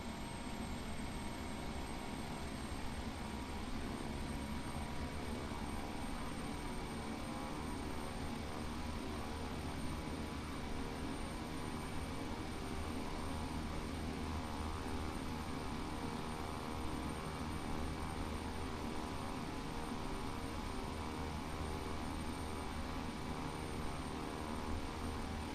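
A steady, loud aircraft engine drone with a constant tonal hum, heard from inside the plane on a landing approach as the throttle is nudged up; no voices.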